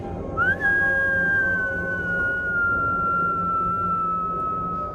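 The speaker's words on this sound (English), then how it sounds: "It wasn't you whistling, was it? It was the bomb that killed you from falling from the sky." A falling bomb whistles through a war zone, one long tone that rises briefly and then slides slowly downward, loud and sustained over a dense low rumble of background noise.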